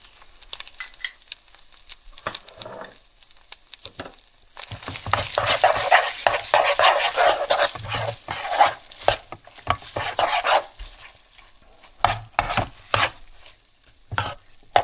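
Sour cream being stirred into a skillet of ground beef and refried beans, a spoon scraping and squelching in bursts over a soft background sizzle, louder in the middle then trailing off into scattered scrapes.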